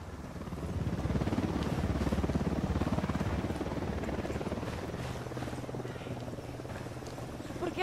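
A helicopter flies in the Ghost Recon Wildlands video game, its rotor thumping in a loud, steady, rapid pulse that swells early and then holds for several seconds with no talk over it.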